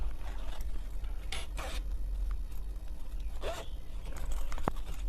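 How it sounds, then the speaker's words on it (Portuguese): A zipper handled while sewing a small lining bag, with a few quick rasping zips and scattered light clicks and scrapes, close and fairly quiet, with no talking. "e um zíper"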